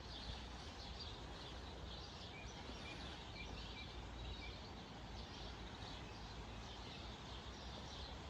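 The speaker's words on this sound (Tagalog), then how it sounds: "Naririnig nyo ba yung mga ibon?" Faint, repeated bird chirps rise over a steady hum of outdoor background noise at a holiday park in New Zealand's Wellington region, with no one speaking.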